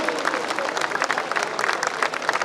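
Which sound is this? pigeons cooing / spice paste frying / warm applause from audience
warm applause from audience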